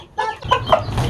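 A hen clucks close by in a few quick, sharp bursts, loud and clear with faint background rustle.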